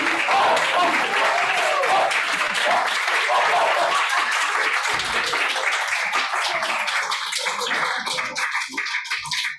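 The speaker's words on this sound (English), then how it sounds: "Can you guys give a round of applause for Nancy?" Audience applause for Dr. Nancy Kirsner at a talk on boundaries, a loud, dense wash of clapping that holds steady for several seconds before thinning out near the end, with some voices mixed in.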